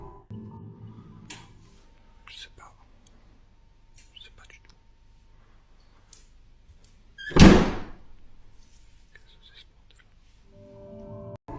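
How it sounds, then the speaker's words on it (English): A door shuts in a dark house at night: one loud, close thud stands out after long near-silence broken by faint creaks and rustles, and a whispering voice is heard at the start. "Upon hearing the door shut"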